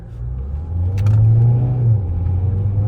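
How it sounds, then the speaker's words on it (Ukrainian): A 2018 Volvo V60 2.0 diesel with 110 kW and an Aisin automatic gearbox revs up hard under acceleration in dynamic mode, a loud steady engine drone rising and holding close, no talking over it. "Бачите, набирає зразу до 4 тисяч обороти."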